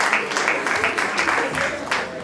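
Audience at a high school show applauding, a dense burst of clapping with rhythmic pulses, fairly close and continuous for a couple of seconds.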